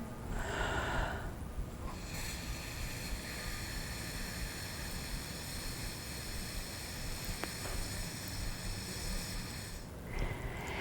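A long, steady breath is drawn through a straw held in the lips in a flute embouchure exercise, a soft hissing airflow that lasts about ten seconds with a slight change near the start.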